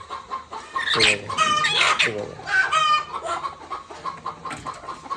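A farm hen that has been set on duck eggs clucks repeatedly in close, loud bursts, with other fowl calling nearby and a little speech mixed in.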